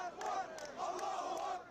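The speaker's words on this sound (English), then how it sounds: "Crowds here in Ramallah were jubilant at their arrival." A jubilant crowd in Ramallah welcomes released prisoners with continuous massed cheering and shouting, rising and falling in waves and held at a steady, moderately loud level throughout.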